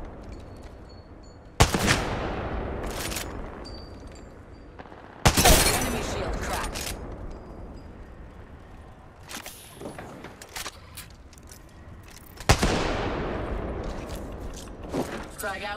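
Gunfire in an Apex Legends match: three loud, sharp bursts of weapon fire with lingering echoes, spaced several seconds apart, over a low background of game ambience and faint scattered shots.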